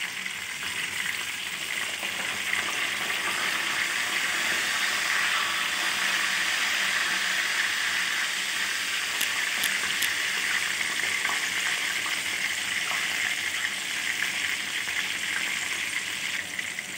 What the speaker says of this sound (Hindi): अब मैं 2 मिनट के लिए इसे मज़ीद फ्राई करूँगी और उसके बाद मैं निकाल लूँगी।